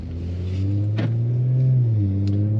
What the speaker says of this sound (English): Makes the exhaust a little bit louder, a little bit more rumblier.